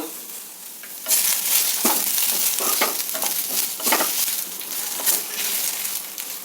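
Chopped onion and garlic cloves sizzle loudly in hot oil in a pan, a steady crackling fry broken by repeated stirring scrapes and clinks, close and continuous with no voices.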